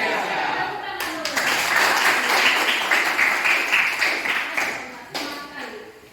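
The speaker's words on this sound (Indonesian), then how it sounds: "Tepuk tangan dulu." A class of vocational school students claps together in a room, the clapping building then tapering, with voices over it and a sharp knock at the start and end.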